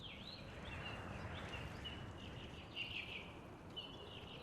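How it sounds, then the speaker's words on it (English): Tranquil forest bird ambience on the Black Ops 3 map Micro: faint, scattered chirps and whistling calls drift over a soft, steady background hiss, with no talking. "it's this like nice, tranquil bird noise, like you're in a forest"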